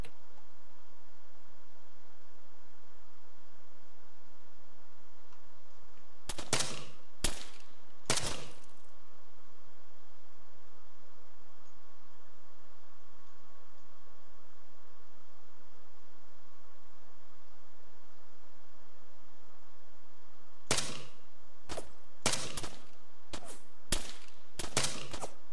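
Gunfire in ARMA 3 comes as two short clusters of sharp, loud shots, a few quick bursts early on and a longer run of rapid shots later, over a steady hiss with long quiet stretches between.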